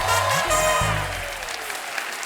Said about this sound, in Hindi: एक बार हमारी टीवी क्वींस के लिए जोरदार तालियां हो जाएं।